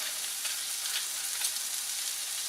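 Peppers cooking in a hot pan with salt, a close, steady sizzle and crackle that holds evenly for a couple of seconds, with no voices.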